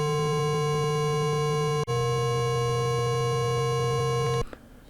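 A Kastle synthesizer oscillator tone, a steady buzzy harmonic-rich drone held loud and alone for about four and a half seconds, with one brief dropout and a pitch shift downward before it cuts off.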